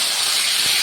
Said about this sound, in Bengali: এবার রান্নাটা সর্ষের তেলে গোটা জিরে, রাঁধুনি আর শুকনো লঙ্কা ফোড়ন দিচ্ছি